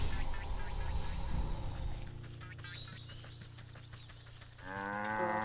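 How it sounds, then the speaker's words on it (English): A cartoonish cow moos in the farm-crafting game Wytchwood, a drawn-out call over a low droning music bed, with a higher bird-like chirping tune rising near the end. "Flip cow twice."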